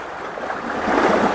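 Water being scooped from a wind-churned pond on the Appalachian Trail, a short close splashing slosh that swells toward the end over soft wind noise.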